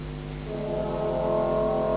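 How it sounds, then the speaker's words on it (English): Three trombones and two trumpets sustain a low, full chord together in rehearsal, swelling slightly louder as the blended tones hold steady without pause. "can I just hear the 3 trombones and the 2 trumpets, please?"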